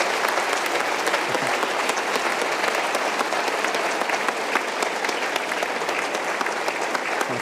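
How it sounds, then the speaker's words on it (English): An audience applauds steadily after a dean's distinguished lecture on energy innovation, a dense, even wash of clapping from a large crowd that holds at a constant level throughout. "let's give Jose another round of applause"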